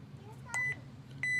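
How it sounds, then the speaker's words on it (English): An Apex cloud security camera, model AWT2019THB, gives a short, clear electronic beep during Wi-Fi setup, sounding at the very end after a quiet stretch of room noise and a soft click. "You will hear the beep."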